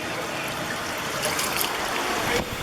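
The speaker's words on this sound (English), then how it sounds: "Here's where the water's coming out, right here." Water trickles out across a beach on Edisto Island, a continuous soft babbling wash with faint surf-like hiss, fairly close and steady throughout.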